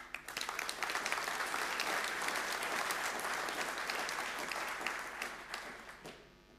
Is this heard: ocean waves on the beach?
no